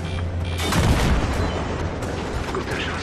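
Heavy gunfire and a booming blast during tank combat in the Battlefield 3 campaign mission Thunder Run, a loud burst of shots and impact rumble that swells in the first second, then continues as dense combat noise.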